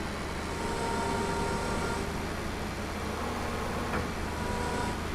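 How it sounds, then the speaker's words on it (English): Steady road traffic on a quiet residential road outside a house, a continuous low rumble and hiss of passing cars with no voices. "I'm not sure if you can hear the traffic."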